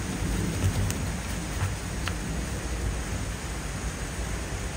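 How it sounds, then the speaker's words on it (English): Rain falls steadily during a thunderstorm while pine bonsai work goes on, a constant wash of patter with a low rumble of thunder and a few faint clicks and taps. "I hope the sound of the rain doesn't spoil this video"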